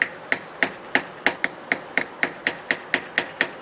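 Sharp metallic hammer taps strike broken powerhead bolts on a 1987 40 hp Johnson outboard in a steady rhythm, about fifteen quick close blows, each ringing briefly before the next.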